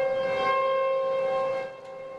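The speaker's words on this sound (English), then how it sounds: "the siren started going off about 5 o'clock" A distant Clermont County outdoor warning siren, set off as a false alarm, sounds a steady tone, then begins to fade near the end, with no voices.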